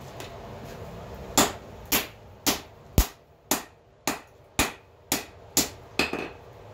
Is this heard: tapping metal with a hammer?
yes